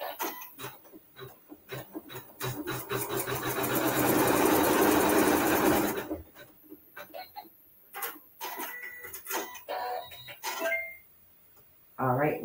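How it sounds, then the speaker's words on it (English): A sewing machine stitches a fabric seam in a quilting session, with a steady, dense whirring burst of several seconds standing alone, then softer intermittent clicks and brief runs as the work is handled. "And now we're going to sew the seam."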